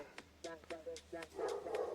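Several short barks from dogs dropped in as reinforcements during a Watcher of Realms guild-war battle, coming in a quick irregular series over steady game noise, denser and louder toward the end.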